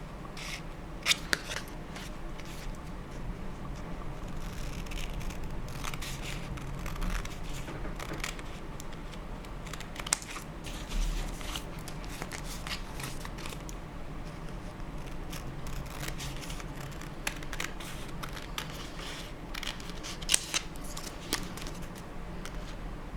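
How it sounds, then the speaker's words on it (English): Scissors trim wallpaper around a craft piece, close repeated snips and crisp paper rustling in an irregular rhythm across the whole stretch, over a low room hum, with no speech. "So then we just trim around it."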